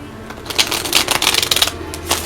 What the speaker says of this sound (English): Gonna give these a good shuffle.